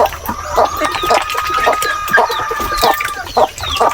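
Native chickens cluck close by on a small farm in the Philippine countryside in short repeated bursts, a busy barnyard chatter with occasional louder calls.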